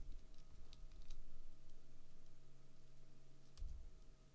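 Typing on a computer keyboard during a Rust programming session, scattered soft key clicks in short bursts, faint and close, over a steady low hum with no talk.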